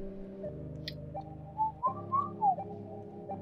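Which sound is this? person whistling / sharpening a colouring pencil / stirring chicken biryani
person whistling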